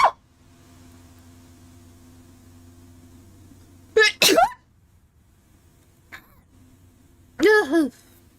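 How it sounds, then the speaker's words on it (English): Two sharp human sneezes break a quiet room, each a short explosive burst with a vocal edge, the second a few seconds after a small throat sound. "Oh my goodness, that sneeze hurt."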